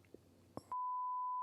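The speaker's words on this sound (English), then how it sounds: "I'll bleep it." A censor bleep: after a few faint clicks, a single steady pure electronic tone sounds and holds unbroken to the end.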